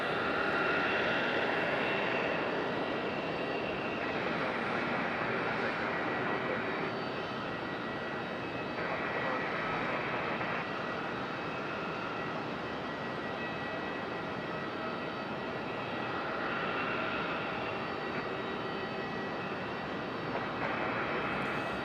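A Frontier Airlines jet taxis at Raleigh-Durham International Airport, giving a faint, continuous engine whine and hum from some distance that rises and falls only slightly.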